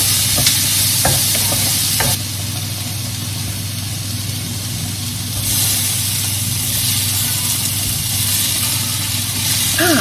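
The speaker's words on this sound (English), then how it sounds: "Just frying off that onion." Loud, steady sizzling of onion frying in a hot pan, with a few clinks of stirring and a low hum beneath.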